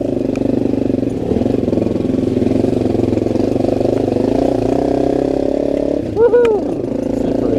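A dirt motorcycle, a Honda CRF250L or Beta 390RR, drones loudly and steadily as its rear wheel spins on a slippery line, with a brief rising vocal whoop near the end.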